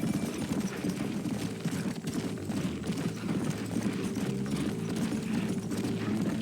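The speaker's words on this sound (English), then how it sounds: "Follow that horse." Galloping horse hooves in the western video game Red Dead Redemption, a rapid continuous clip-clop of several horses at speed, steady and close, under a rumbling game soundscape without talking.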